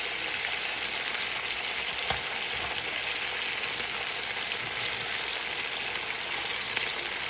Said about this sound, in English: put your potatoes in there while it's sizzling